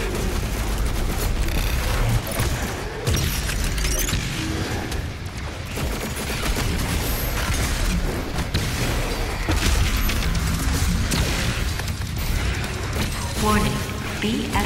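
The BFG 10,000 weapon firing in a video game, heard as a continuous loud barrage of booming blasts and rumbling detonations that runs steadily throughout without pause.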